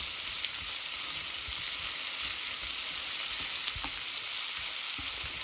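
Steady, dense sizzling of chicken and shrimp frying in a hot pan, heard close and continuous with occasional faint pops and scrapes, no talking.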